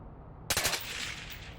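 A burst of SMG gunfire from the VR shooter Onward rings out after a moment of quiet, a short rapid volley of sharp shots followed by a decaying echoing tail, with no talking.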